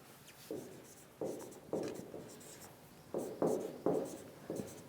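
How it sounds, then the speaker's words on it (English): A lecturer in a syntax class writes a sentence on a board, with a series of short, scratchy marker or chalk strokes in an irregular rhythm, close and fairly quiet, without speech. "another sentence that I am writing here"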